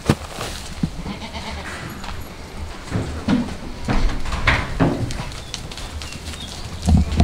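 Goats crowd around a food bowl, with scattered loud bleats coming close over shuffling and clattering, and louder calls toward the end.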